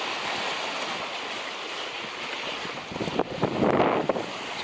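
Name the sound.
ocean wave hitting a sailboat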